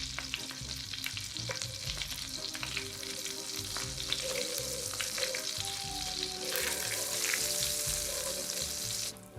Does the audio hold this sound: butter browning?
yes